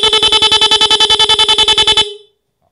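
A car horn fitted with an interrupter relay blares in rapid, even pulses, loud and close, about ten beeps per second for two seconds before cutting off abruptly into silence.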